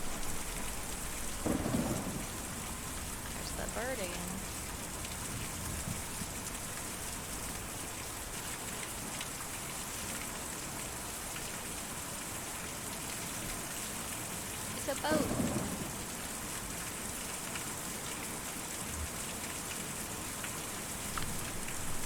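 Steady heavy rain hisses throughout, with a couple of low thunder rumbles rising and fading; a voice speaks briefly early on.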